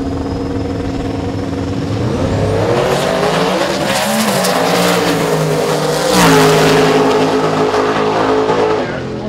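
Drag race car launching down the lanes in a qualifying run, its loud engine roaring and climbing through a gear change, with tire noise and a swelling peak before the sound trails off into the distance.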